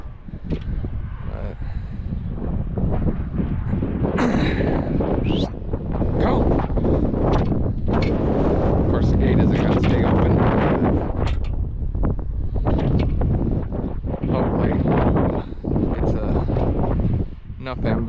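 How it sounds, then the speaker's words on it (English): Gusty wind buffets the microphone on a farm while calves are moved and fed, a loud, rough, continuous rumble that rises and falls throughout, with a voice speaking intermittently beneath it. "It's a little windy today."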